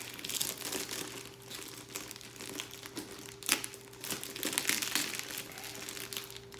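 Tape and plastic wrapping on a boxed Punisher helmet are torn and crinkled up close: steady rustling with sharper crackling bursts, over a low constant electrical hum.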